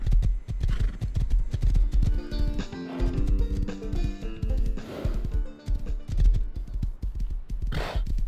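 Horse hooves galloping in the video game Rust, a fast rhythmic clip-clop close and steady throughout, with occasional snorts and breathy whinnies.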